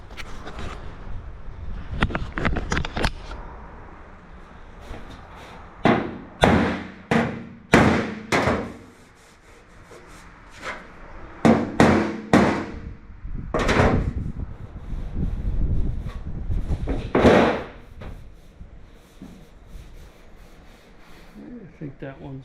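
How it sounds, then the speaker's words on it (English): A 1959 Chevrolet truck hood is hammered over a sandbag, giving clusters of sharp, fairly loud metal-on-bag blows in irregular bursts separated by pauses, with faint shuffling between. "I've got a sandbag underneath here, help absorb some of that, so and hold the part in place, and just gonna hammer on there"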